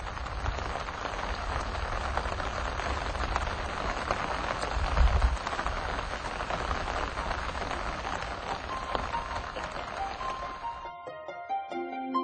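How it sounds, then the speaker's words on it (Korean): Heavy rain pours onto Jinyang Lake, a dense, loud, continuous hiss of drops that runs steadily before cutting out near the end. "진양호에 내리는 빗소리가 요란하다."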